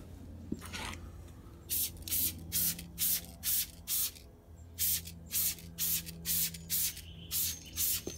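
Wheel cleaner is sprayed onto a car wheel in a quick series of about a dozen short, close hissing bursts from a trigger sprayer, evenly spaced with a brief pause in the middle.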